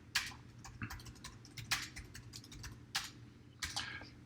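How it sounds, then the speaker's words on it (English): Quick clusters of key clicks from a computer keyboard as an address is typed in, several short bursts spaced irregularly through a quiet room with a low hum underneath. "and then type in your address"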